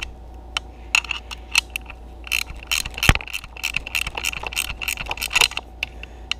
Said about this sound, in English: This is a handy dandy gear wrench.